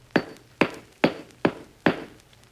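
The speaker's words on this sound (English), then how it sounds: "I think you could make a straighter edge on that sidewalk if you used a chisel" A chisel strikes a concrete sidewalk edge in a staged radio sound effect, five sharp evenly spaced knocks, close and distinct with short ringing decays.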